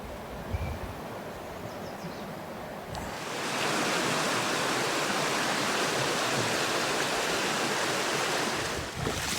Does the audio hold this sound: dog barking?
no